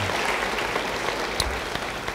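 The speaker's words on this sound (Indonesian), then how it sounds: "Yang mau beri tepuk tangan bagi dia" A church congregation applauds during a worship service, a steady dense clapping that fills the whole brief moment with no talk over it.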